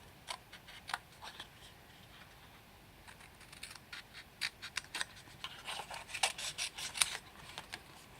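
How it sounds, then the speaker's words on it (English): Scissors fussy cut around a papercraft card piece, a soft run of small snipping and rasping strokes, quiet and close, growing busier toward the end. "I'm going to fussy cut this out"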